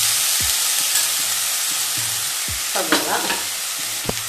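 Vegetables for a cutlet fry in hot oil in a pan with a close, continuous sizzle, broken by the scrape and clatter of a spoon stirring them.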